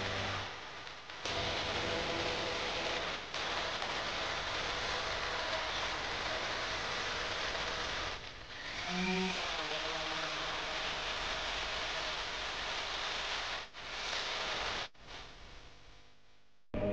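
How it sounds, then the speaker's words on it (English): An orbital sander smooths a movie prop gun with fine-grit paper. It makes a loud, steady, hissing whir that runs almost throughout, with short breaks near the start, in the middle and toward the end. "Gonna try to smooth things out with the orbital."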